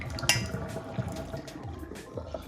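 Water splashing and trickling with a few light metallic clinks as water is poured off chicken liver through a sieve, steady and close.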